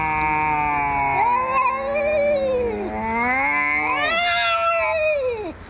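A cat yowls in long, wavering, rising and falling wails that run almost without pause, loud and close, with a faint crowd-like murmur underneath.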